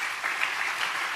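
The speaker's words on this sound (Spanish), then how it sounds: "Denle un buen aplauso a Jesús." Brief burst of congregation applause for Jesus during a Spanish-language church service, dense steady clapping from many people with no talk.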